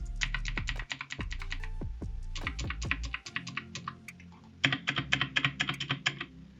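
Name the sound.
mechanical keyboard keys clicking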